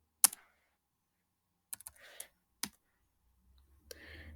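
Several sharp key clicks from typing on a computer keyboard while entering a number, a few isolated taps followed by a short burst of keystrokes, then a low hum in the background.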